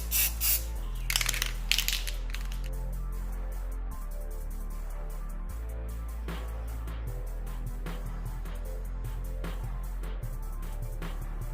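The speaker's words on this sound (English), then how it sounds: "Test spray." Primer paint test-sprayed from an aerosol spray can before coating wheels: a few short hissing bursts near the start, then a steady background hum with scattered clicks.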